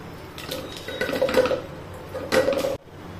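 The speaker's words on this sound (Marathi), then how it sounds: "इथे पाणी टाकायचं आपल्याला" Water is poured into a metal pressure cooker holding wheat for traditional kheer, two splashing bursts with faint metallic clinks, close and alone.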